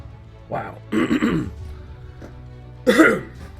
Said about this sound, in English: Excuse me, I've got a cough